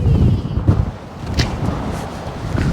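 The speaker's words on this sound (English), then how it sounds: "it's definitely windy" Gusty wind rumbles and buffets the microphone outdoors, loud and close, with a few soft knocks.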